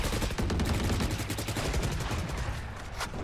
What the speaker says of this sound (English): Heard a lot of gunshots